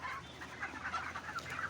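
Broiler chickens on a poultry farm, resting on rice-husk litter on a hot day, give soft, repeated clucks and low murmuring calls, faint and close, in a quiet, continuous run without any talking.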